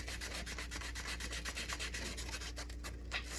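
Hand sanding a spliced 3D printer filament join: steady, close scratchy rubbing strokes repeating in a quick back-and-forth rhythm, heard alone without talk.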